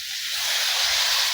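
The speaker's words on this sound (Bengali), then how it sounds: "আমি এখন পরিমাণ মতো জল দিব" Water poured into a hot pan of spiced vegetables, a close, loud rush of hissing steam that swells slightly and holds steady.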